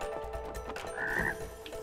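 Frog croak from the video game It Takes Two rings out once as a brief, throaty call over constant game music and ambience, fairly prominent in the mix.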